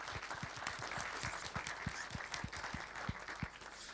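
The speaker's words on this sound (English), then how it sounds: "let's quickly raise a hand of applause for Sonja's talk" Audience applause at a tech conference talk on API observability at KCD Austria 2023: a thin, moderately loud patter of clapping with distinct individual claps standing out through the whole stretch, steady and unbroken.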